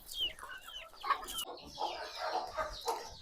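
Hens clucking inside a farmyard coop, several soft, irregular clucks and short calls close by, fairly quiet and without talk.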